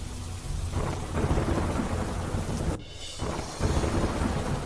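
Steady heavy rain in Panchmahal, Gujarat, with rolling thunder rumbling underneath, a dense continuous downpour with a short dip midway.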